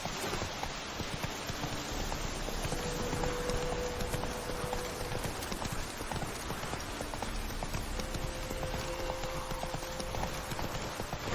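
Horse hooves clip-clop steadily on the ground in The Witcher video game, a continuous trotting rhythm heard close and moderately loud, with faint rain-like patter and brief tonal game sounds in the background.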